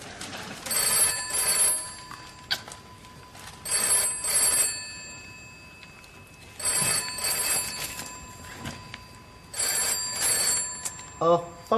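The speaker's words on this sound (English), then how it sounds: "Phone's ringing." An old-style telephone bell rings in repeated double bursts with short pauses between them, loud and fairly near inside a room.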